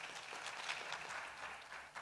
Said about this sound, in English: You see, you get more claps.